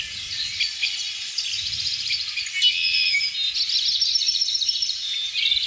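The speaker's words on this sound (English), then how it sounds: "filled with greenery, beautiful birds" Birds chirp and trill steadily in a green, leafy outdoor setting, a bright continuous chorus of overlapping calls with a faint low rumble underneath and no voices.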